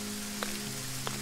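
Steady rain falling outdoors in the Green Project video game, a soft continuous hiss with a low hum running beneath and two brief brighter drips standing out.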